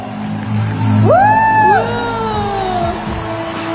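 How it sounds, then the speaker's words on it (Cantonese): An audience at the TVB awards ceremony cheers loudly, with rising whoops and shouts over a broad crowd roar that swells then holds steady. "請各位希望大家用熱烈嘅掌聲一齊起立"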